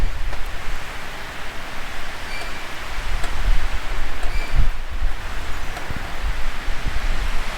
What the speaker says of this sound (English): You can probably hear it now, but we're getting a bit of rain at the moment.